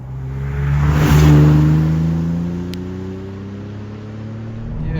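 A 1989 Vauxhall Carlton GSI 3000 24V, a rear-wheel-drive car with 200 horsepower, drives with a steady engine drone from inside. The engine note rises briefly and eases back as the revs shift.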